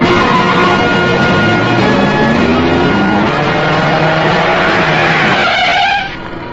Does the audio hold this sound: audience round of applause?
no